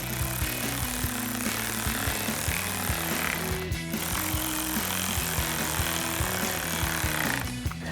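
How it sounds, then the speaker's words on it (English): Power tool with a 7 mm socket drives small self-tapping bolts into a headlight mounting on a 2021-2024 Ford Bronco, giving a steady loud whirring buzz with repeated pitch changes over about eight seconds. "And then we'll take a 7 millimeter socket to tighten these down."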